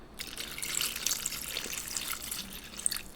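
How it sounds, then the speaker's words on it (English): Water pours steadily into a container in a live binaural recording, a continuous splashing trickle heard close and alone for a few seconds. "I need to put a little bit more water in there."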